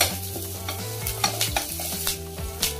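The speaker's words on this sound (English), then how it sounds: "add onions, chilies, curry leaves, and then stir it" Onions, chilies and curry leaves stirred into hot oil with sizzling mustard seeds, a steady close frying sizzle with scraping stir strokes of a spoon in the pan, no voices.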